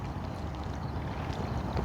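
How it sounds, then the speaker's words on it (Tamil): Light waves lap and a mild breeze blows along the Al Jaddaf waterfront walkway in Dubai, a steady, close wash of water and wind noise with no speech. "லைட்டான ஒரு அலைகள், காற்று லைட்டாக வீசுதுங்க, மைல்டான காற்று."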